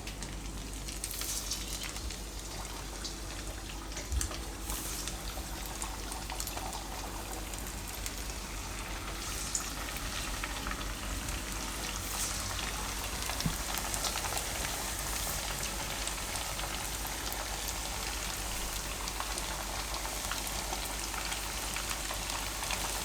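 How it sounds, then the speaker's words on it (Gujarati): Rice flour puris deep-frying in a wok of hot oil over a low gas flame give a steady, dense sizzle and crackle that hold an even level throughout, with no talking. "તો આમાં આપણે તરી લેવું તો તેલ ગરમ થયા પછી ગેસને ધીમો કરી દેવું"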